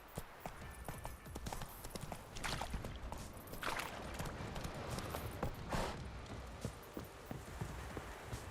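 Roach, Geralt's horse in The Witcher 3: Wild Hunt, clip-clops along at a walk, steady hoofbeats running under a soft ambient bed with occasional louder noise bursts.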